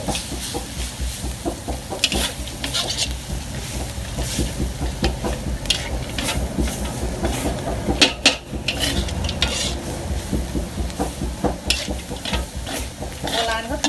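Busy stir-frying of chicken in a wok: continuous sizzling with rapid metallic scraping and clanking of a spatula against the pan, loud and close.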